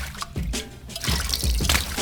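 Liquid being poured for homemade alcohol, a close gurgling trickle with irregular splashy bursts that swell louder toward the end, with no talk.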